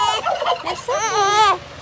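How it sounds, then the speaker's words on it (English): Farm turkeys gobbling close by, a rapid warbling burst followed by a longer, louder rolling gobble that cuts off abruptly. "The turkeys are quite taken with this young man."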